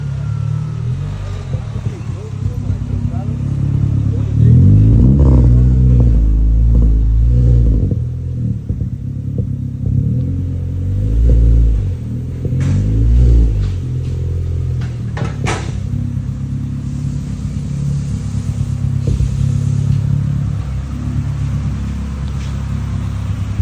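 Modified, fully built Honda Civic engine revving in bursts as a heavy clutch is worked, low rumbling swells rising and falling close by, with people talking over it.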